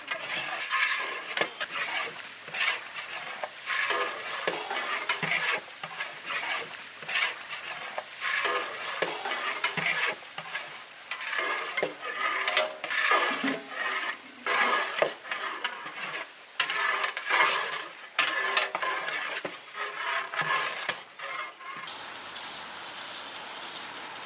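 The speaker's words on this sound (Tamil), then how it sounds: "கருவேப்பிலை வெங்காயம் போட்டு நல்லா வதங்கிட்டு" Onions and curry leaves sizzle and crackle in a hot pan while a spoon stirs and scrapes in irregular bursts, close up.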